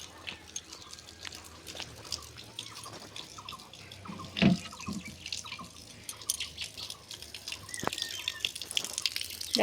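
Hands are washed under a running tap, a faint steady trickle of water with scattered drips and splashes, quiet and close, with a louder splash midway.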